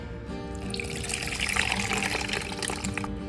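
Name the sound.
washing soaked black-eyed peas (chola) in water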